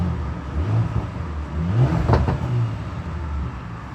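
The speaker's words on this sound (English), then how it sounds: "those are the sounds of the exhaust on the Porsche Macan S" A 2024 Porsche Macan S exhaust in sport plus mode rumbles at a moderate level, with a brief rev swelling and falling midway through the short stretch.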